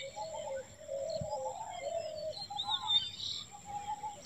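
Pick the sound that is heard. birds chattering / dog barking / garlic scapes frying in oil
birds chattering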